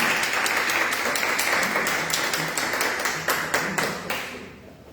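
Audience applause after a poetry reading at a book presentation for Jorhan Chaverri's Proematos: a dense wash of many hands clapping, steady and close, thinning and fading toward the end.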